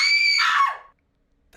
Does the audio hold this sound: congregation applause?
no